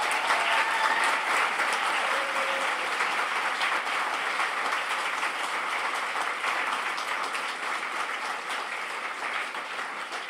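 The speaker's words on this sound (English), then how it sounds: "Everyone, please, a big Melbourne round of applause for Philip Pullman." A large audience at a Melbourne author event applauds Philip Pullman, dense sustained clapping filling the whole stretch at an even level, with no talking over it.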